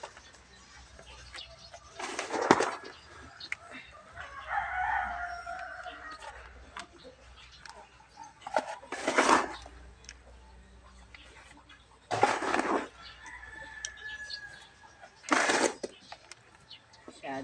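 Chickens kept on a farm with pigs cluck and call, loud bursts recurring every few seconds, with a person speaking between them.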